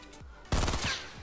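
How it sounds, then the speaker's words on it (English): Gunfire in Fortnite Battle Royale, a single sharp burst of rapid shots ringing out over quiet game ambience, fairly faint overall. "I get shot a few times, so I'm down to 9 shields when I was on full"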